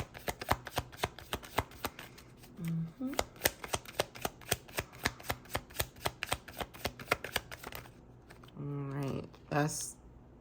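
Tarot cards shuffled in rapid, rhythmic riffles, a steady train of crisp flicks, with brief bits of speech near the end.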